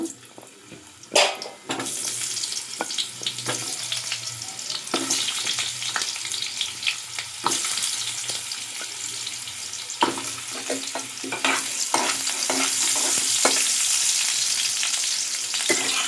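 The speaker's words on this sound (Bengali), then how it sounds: "আলুগুলোকে লাল লাল করে ভেজে নেব।" Potatoes and plantains frying in oil in a pan for Bengali shukto, a steady sizzling hiss that grows louder and fuller toward the end, broken by sharp clatters and scrapes of stirring.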